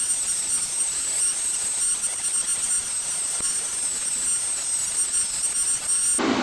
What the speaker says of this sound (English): I'm going to just use a wire wheel to brighten them up and clean them up some.